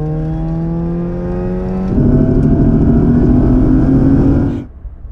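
A Mazda MX-5 roadster accelerates hard in a drag race, its engine droning loud and close with rising pitch, shifting gear about two seconds in, then pulling harder before cutting off abruptly near the end.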